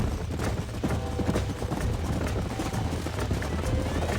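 Horses galloping in the Red Dead Redemption video game, a close, continuous drumming of many hooves in quick overlapping rhythm, loud and steady throughout with no voices.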